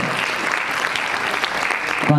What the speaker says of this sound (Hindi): विशाल भाई के लिए भी तालियां, स्वागत।